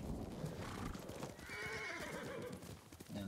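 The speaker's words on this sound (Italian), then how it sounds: "Cavallo!" A horse in the video game Ghost of Tsushima whinnies and its hooves clop, a clear neigh in the middle over steady trotting, with a voice briefly heard near the start.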